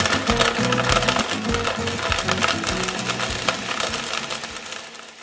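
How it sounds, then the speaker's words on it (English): High-powered blender grinding Mexican chocolate for chicken mole, a loud continuous gritty roar with rattling, crunching chunks throughout, heard alone. "Now blend the Mexican chocolate in the same manner."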